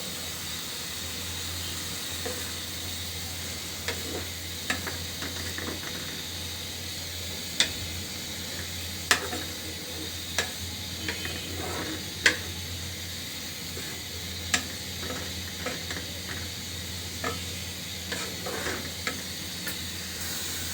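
Potatoes frying in a pan with garlic paste, cumin paste and salt in a village-style home kitchen, giving a steady soft sizzle with occasional scrapes and clinks of a stirring spoon throughout, and no voices.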